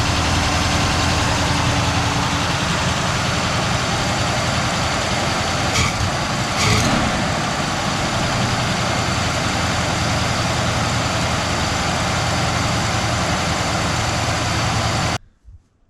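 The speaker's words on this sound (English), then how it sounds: "So the car will idle down after, right here." A car engine idles steadily and loudly at close range, a low continuous rumble with a brief clatter midway, before cutting off at the end.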